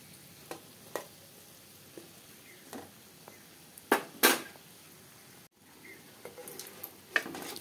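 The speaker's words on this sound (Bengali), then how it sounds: "সমস্ত গজাগুলো একসঙ্গে আমি দিয়ে দিয়েছি আর ভাজা আমার হয়ে এসছে" Goja sweets fry in oil over a low gas flame, giving a soft, steady sizzle with occasional sharp metallic clinks and scrapes of a utensil against the pan.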